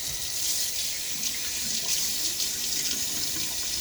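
A bathroom tap runs steadily for rinsing during a wet shave, a continuous close hiss of flowing water with no voices.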